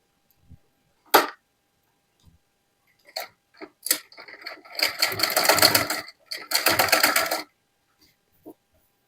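A sewing machine stitching a suit runs in two short bursts of rapid, close whirring, preceded by scattered clicks and taps of handling in an otherwise quiet room.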